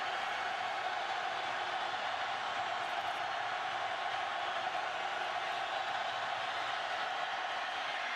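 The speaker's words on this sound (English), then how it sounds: "This crowd is in complete disbelief." Stadium crowd at an Iowa State versus Oklahoma State college football game, a dense, steady roar of thousands of voices holding at an even level throughout, heard from a distance with no clear individual talk.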